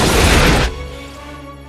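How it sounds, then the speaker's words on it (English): A loud, roaring explosion from the film Godzilla (1998) bursts out for over half a second, then cuts away to a low lingering rumble and tones. "Oh man, I love practical explosions."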